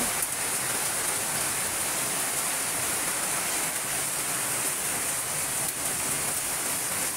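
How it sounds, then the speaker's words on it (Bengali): Rain pours down in Pabna, Bangladesh, at midday, producing a loud, uniform rushing hiss of drops hitting surfaces that continues unbroken, with no speech. "বৃষ্টি দেখতে ভালোই লাগছে।"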